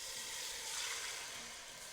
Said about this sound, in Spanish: Y vamos a freír nuestra salsita